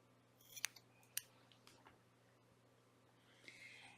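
Scissors snip yarn tails on a crochet shawl: two sharp, close clicks of the blades early on, followed by quieter handling rustle in a near-silent room.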